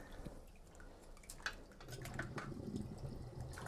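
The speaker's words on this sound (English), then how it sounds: "water watch as the water solemnly goes down the plug hole" Washing-up water drains from a sink down the plug hole, a steady close gurgling trickle with small drips that grows fuller and louder in the second half.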